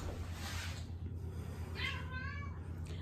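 A cat meows twice in a cat tower indoors: one soft, short call, then a clearer rising-and-falling meow, with a steady low hum throughout.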